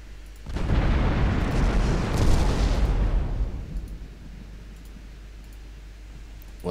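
Warship guns fire in the naval combat game Ultimate Admiral Dreadnoughts: a heavy booming salvo rumbles loudly for about three seconds, then fades into a quieter background hum, with no talking.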